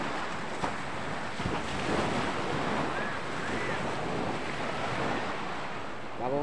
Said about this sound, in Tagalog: nandito tayo sa baybaying dagat